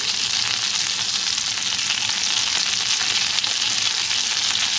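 Steak searing in a hot pan alongside potatoes, a loud, dense, steady sizzle that holds without a break, close up and with no voices.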